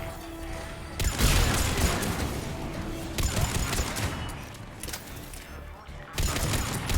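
Gunfire in the Mass Effect 3 video game, loud clustered bursts of shots and impacts repeating in several volleys amid heavy combat noise.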